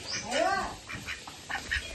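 A close duck gives a loud, rasping quack, followed by several softer quacks at an uneven pace.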